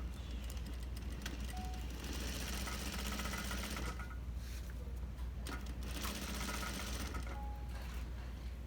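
A sewing machine runs steadily, stitching around a long shell-shaped suit jacket collar, with brief pauses and small clicks between runs and no talking.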